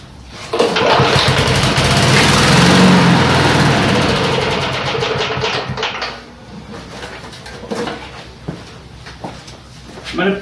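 A cheap Snapper walk-behind lawn mower that won't stay running cranks and briefly roars loudly up close, then sputters and fades to an uneven idle with intermittent pops, with someone talking nearby.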